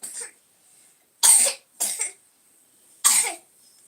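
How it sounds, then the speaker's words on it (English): Three sharp coughs from a child, close and fairly loud, spaced out with short silences between them and no talking. "this child is coughing"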